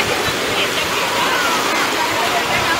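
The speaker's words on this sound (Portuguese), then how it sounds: "as ondas não estavam ligadas, a água estava parada, agora ligaram" Wave pool at a water park with the wave machine switched on, giving a steady, loud wash of churning water and surf that fills the whole stretch evenly.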